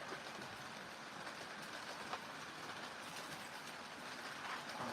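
A blue model passenger train runs steadily on a layout, giving a continuous close rolling rumble with faint rhythmic clicks of wheels over rail joints and no talk.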